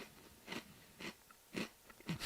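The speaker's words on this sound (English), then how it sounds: "It's a crunchy rice snack" Crunchy Japanese rice snack bitten and chewed close to the mic, four distinct crisp crunches spaced about half a second apart in a quiet room.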